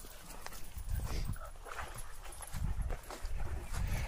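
A dog whines and whimpers in bursts, eager for something to be thrown, during a walk with several dogs, with soft rustling and shuffling close by.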